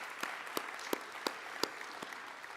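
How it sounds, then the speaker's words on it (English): Sparse, hollow-sounding applause at a high school senior assembly, with a few distinct louder claps standing out from a soft, thin background of clapping. "So just another round of applause for that too"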